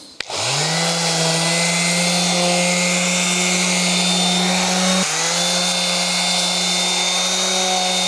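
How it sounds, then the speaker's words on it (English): A power sander works a window frame surface with 150 grit sandpaper, a loud steady motor whine with a brief dip partway through before it carries on continuously, no talking over it. "I'm going to use a 150 grit, and that should be just good enough to sand this whole surface"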